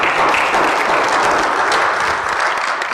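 A church congregation at a Spanish-language service applauds, loud dense clapping throughout with no talk.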